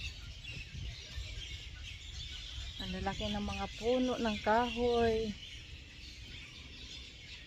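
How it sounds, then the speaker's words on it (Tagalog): Loud, steady birdsong fills a botanical garden at a resort in Mauritius, with a brief cluster of harmonic calls rising above the chorus while a person speaks. "Yan ang sounds dito, mga ibon."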